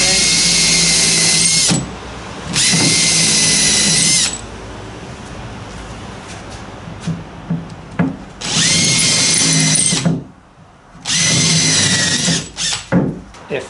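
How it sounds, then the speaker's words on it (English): Power drill boring through wood for a thwart knee on an Acorn dinghy build, in four loud, close bursts of a few seconds each with handling clatter and quieter gaps between. "Then I can flip it over, and I'm going to drill through and do the counter thing."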